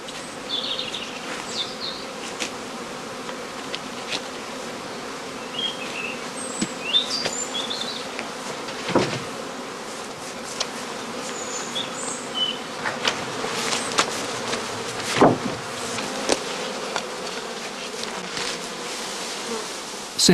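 A honeybee swarm being hived into straw skeps on northern German heathland produces a continuous close buzzing drone, with individual bees zipping past the microphone now and then.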